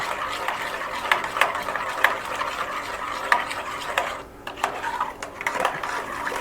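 Buttermilk being stirred with salt and turmeric for a Telugu curd chutney, a spoon scraping and swirling steadily in a vessel with small clinks, close and fairly clear with no talking.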